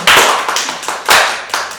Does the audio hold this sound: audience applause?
yes